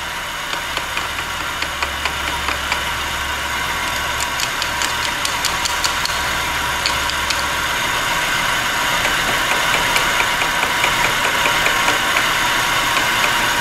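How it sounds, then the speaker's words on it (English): A 1997 Nissan Altima with a misfire idles steadily while a screwdriver taps on a fuel injector, giving a constant close engine drone with faint, regular ticking taps riding on top. "One of the things I'm going to try to do is tap on it with my screwdriver again."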